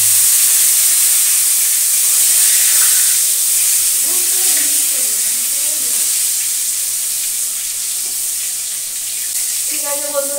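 Pointed gourd (potol) fries in hot oil with a loud, steady hiss and sizzle that carries on throughout without a break.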